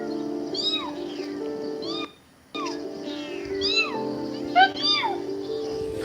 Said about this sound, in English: Now the people are meowing to try to get him to come back.